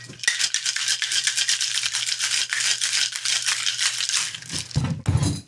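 Ice rattles hard inside a cocktail shaker as ginger rum is mixed, a loud, dense and rapid rhythmic clatter that runs for several seconds before a few thumps and a brief voice at the end.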